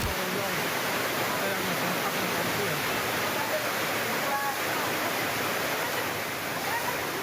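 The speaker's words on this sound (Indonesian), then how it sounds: "arus sungai yang sangat deras menyebabkan tembok pembatas dengan sungai roboh" Fast, heavy floodwater from a torrential rain-swollen river in Buleleng, Bali rushes in a dense, constant roar with no clear pauses, heard loud and close with faint voices mixed in underneath.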